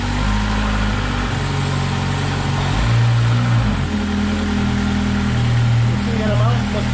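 A 2000 Ford Contour with a 2.0 engine and a vacuum leak idles steadily in drive, a close, continuous low hum with a slight shift in pitch partway through, while a voice talks over it.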